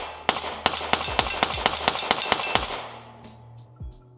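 Eleven rapid pistol shots from an FN Reflex, sharp loud cracks in a quick even string with brief splits, followed by faint metallic clinks as the shooting stops.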